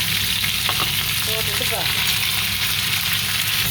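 Crab pieces land in a pan of sizzling tomato masala for a crab curry, giving a steady, loud frying hiss throughout with a few brief stirring scrapes near the start.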